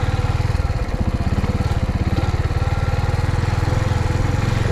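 A Suzuki TU250X motorcycle engine runs steadily at low revs, a loud, close, rhythmic throbbing putter with no voices.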